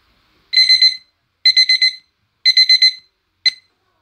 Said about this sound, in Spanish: el reloj despertador los sacudió de sus sueños.